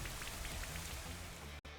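Steady rain weather ambience in the Pokémon Sword video game, a continuous even hiss of falling drops with faint game sounds, briefly cutting out near the end.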